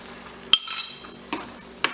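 A spoon clinks and scrapes against a pan as a chilli paneer mixture with cornflour and maida batter is stirred, a few sharp metallic taps spaced through a quiet background hum.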